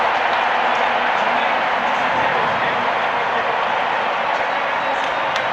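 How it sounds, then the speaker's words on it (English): Stadium crowd at the 2013 World Championships in Moscow, a dense continuous roar of cheering and applause that fills the whole stretch at steady loudness, without a clear single voice standing out. "Just listen to that crowd."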